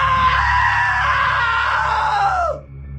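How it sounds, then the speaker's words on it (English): A long, loud, sustained scream from a character in the video game What Remains of Edith Finch, holding steady before dropping off abruptly near the end, over a low droning background. "Now that was a great scream."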